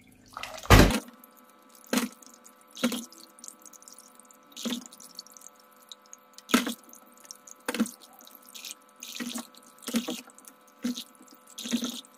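Kitchen tap water running in short bursts and splashes while guavas are rinsed and lifted out, with intermittent drips and pours at close range and no talk.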